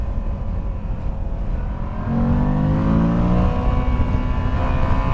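A Moto Guzzi V85 TT motorcycle idles and then pulls away from a standstill, its engine note rising in pitch as it accelerates close by, with no voices.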